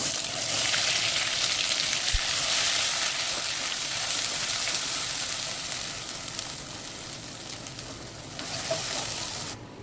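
Cumin and spice paste sizzling in two ladles of hot oil for a drumstick curry, a steady dense crackle and hiss that stays loud and unbroken throughout.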